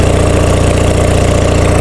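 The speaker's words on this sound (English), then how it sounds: "Exhaust note is getting pretty crackly." An old, rusty Onan diesel generator runs close by with a steady, loud, rapid pulsing exhaust that has a rough, crackly edge.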